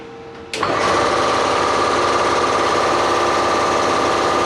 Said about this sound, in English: I'm just going to put the compressor on.